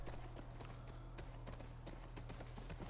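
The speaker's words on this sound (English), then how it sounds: "Don't think this horse got given a name in the game." Horse hooves clip-clopping in The Last of Us Part 2, a quick, regular run of sharp hoof strikes close by over a low steady hum.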